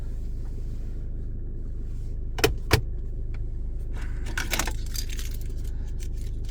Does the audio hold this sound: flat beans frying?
no